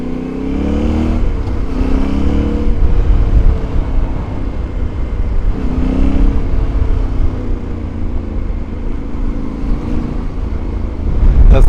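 A motorcycle filters through traffic with the rider's visor open, a steady loud engine drone mixed with heavy wind rush, rising and falling slightly in pitch throughout.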